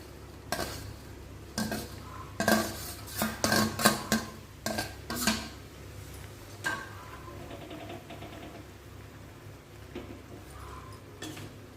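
Bun halwa gets stirred in a pan, a spoon scraping and knocking in bursts of irregular strokes over a faint background sizzle, close and fairly quiet.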